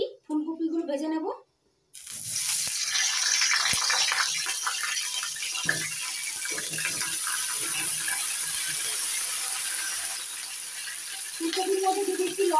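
Cauliflower florets drop into hot oil and set off a loud, sustained hissing sizzle that holds steady for about ten seconds, with a voice speaking before the sizzle starts and again at the end.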